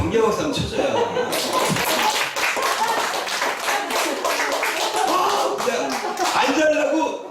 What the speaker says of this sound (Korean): 경계박수 한번 쳐줘요.